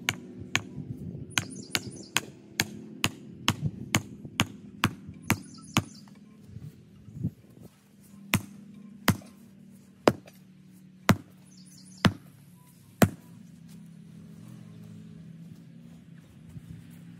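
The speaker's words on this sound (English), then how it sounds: "I need to pound this down in the ground right about here." Sharp, evenly spaced impacts ring out one after another as a stake is pounded into garden ground, quickening at first then slowing to single heavy blows, with no talking.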